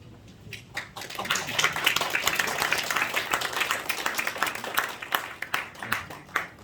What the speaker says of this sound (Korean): 다시 한번 크게 한번 박수 주십시오.